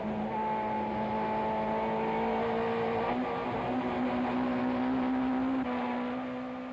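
Touring race cars, including a Toyota Camry, a BMW and Opel Astras, battle at Killarney in the 1994 South African Touring Car Championship, their engines whining in continuous loud, shifting tones as they race close together.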